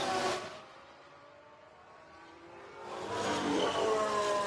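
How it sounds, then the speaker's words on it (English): A Ferrari Formula 1 engine in the video game F1 Manager 22, heard as a race car whining past. A loud pass fades out, then another high-pitched engine builds again after a lull. No one talks. "That's a genuine Ferrari noise."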